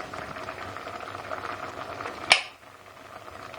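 Carrots boiling in water in a pot for gajar ka murabba, a soft steady bubbling hiss broken by a single sharp metallic clink near the end, after which the sound drops quieter.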